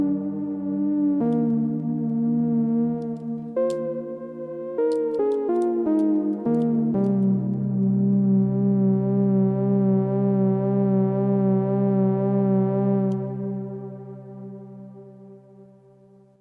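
An Elektron Syntakt synthesizer patch runs through filter and delay: a few plucked tonal notes with sharp attacks, then a long sustained harmonic tone that holds steady and fades out near the end, loud and alone with no talk.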